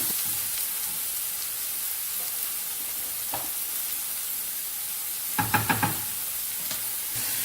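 Cut onions and green peppers frying in a pan, a constant bright sizzle with a short burst of quick scraping stirs toward the end, close and without speech.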